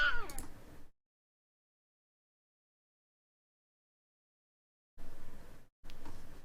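A cat meows twice near the end, close and fairly clear, after a single short cry at the start and a long silent gap between.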